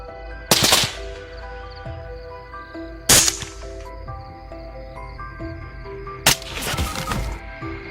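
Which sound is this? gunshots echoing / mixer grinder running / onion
gunshots echoing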